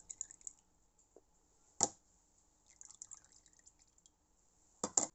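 Paint drips from a viscosity test cup in a quiet room, a few sharp, close drops spaced irregularly with faint trickling in between, with no speech.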